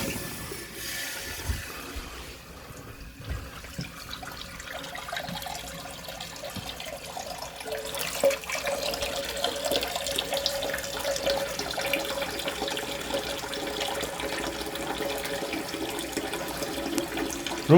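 Water runs and gushes through a newly installed Kohler Highline Curve toilet once the supply is turned on, a continuous hiss and trickle that swells midway and carries on steadily, with no speech.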